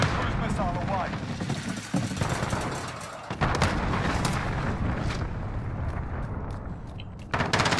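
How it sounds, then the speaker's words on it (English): A cruise missile strike in the video game Call of Duty: Modern Warfare brings dense rumbling blasts and scattered gunfire that fill the clip, with a player's voice talking over the battle noise. "Hello, cruise missile."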